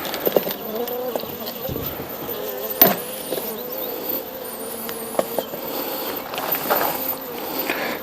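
A steady hum of buzzing honey bees from a newly shipped package with a queen fills the background, with faint voices and occasional clicks and handling noises nearby.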